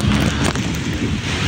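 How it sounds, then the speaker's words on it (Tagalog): Strong typhoon wind roars against the microphone in a continuous loud rush under a highway overpass during a storm in the Philippines, with no voices. "At ang lakas ng hangin"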